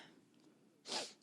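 A single close, sharp sneeze bursts out near the end over a faint background hiss, with no talking.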